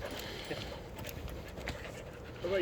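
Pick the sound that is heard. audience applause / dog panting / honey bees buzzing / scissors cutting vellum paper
dog panting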